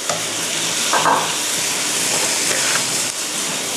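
Rice is stir-fried over high heat for a chicken curry-powder fried rice, giving a steady, loud sizzle with scraping and stirring of a spatula in the wok and no talk.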